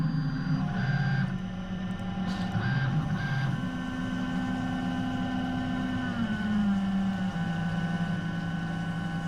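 A knurling tool presses a grip pattern onto a bolt spinning in an 8L CNC lathe, giving a steady mechanical hum with shifting whining tones and faint rhythmic scraping that runs continuously at close range.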